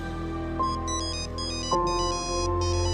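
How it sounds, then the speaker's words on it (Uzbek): A telephone rings with an electronic ringtone, a repeating pattern of bright melodic beeps heard alone and at moderate loudness in a quiet room. "Shu orada telefon jiringlardi."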